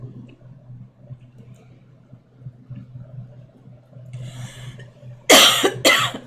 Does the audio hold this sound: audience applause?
no